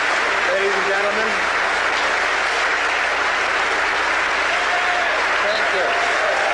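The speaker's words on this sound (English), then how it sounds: "He is getting an applause, not necessarily from the reporters, but from the Justice Department employees who are, as you see, lining the balcony." Justice Department employees lining a balcony applaud in a steady, dense wash of clapping that holds for several seconds, with faint voices mixed underneath.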